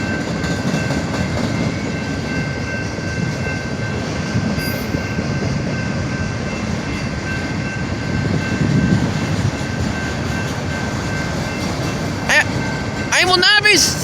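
A train rolls past a street crossing on Maumee Street with a steady, loud rumble of wheels on rails held close for the whole stretch, and brief high squeals or whistling tones near the end.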